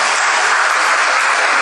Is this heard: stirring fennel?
no